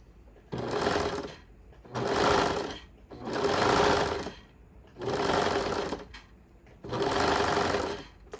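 A sewing machine stitches elastic onto swimwear in five evenly spaced bursts, each a loud, close run of stitching separated by brief stops.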